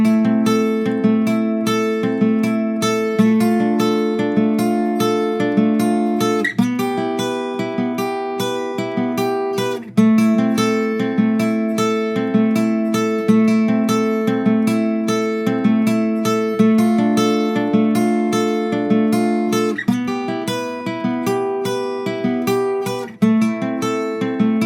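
A guitar finger-picks the chords of a song in a steady repeating pattern, clear and close, with each plucked note ringing into the next and chord changes every few seconds, played alone without any talking.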